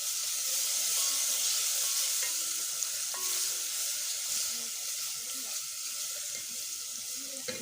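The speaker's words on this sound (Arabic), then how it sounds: "هقلبهم مع بعض لغايه ما ريحه الثوم بس تطلع" Garlic with salt and pepper frying in a pan, a steady close hiss of sizzling throughout with occasional light scrapes from stirring.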